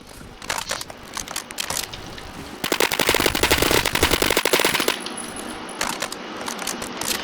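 An AK-12 rifle fires in Roblox Phantom Forces in rapid automatic bursts, with a longer sustained burst in the middle and short clicking shots before and after, loud and close.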